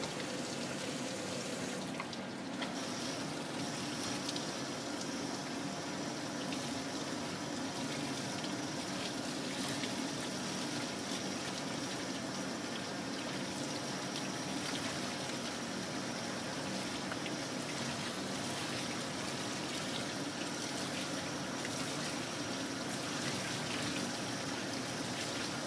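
Water runs steadily from a spray as a Maltese dog is rinsed during a grooming bath, a continuous close hiss with no pause and no speech.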